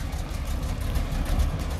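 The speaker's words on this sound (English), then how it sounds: "You can hear the engine fan over the exhaust." A muscle car idles steadily with its electric exhaust cutouts closed, running through the factory muffler; a low, even rumble mixes with the whir of the engine fan, close and continuous with no talk.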